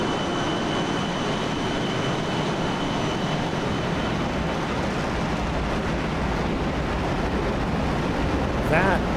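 Steady roaring jet engine noise from a DC-9 airliner in a flight simulator game, a dense continuous broadband rumble and hiss holding level throughout with no speech.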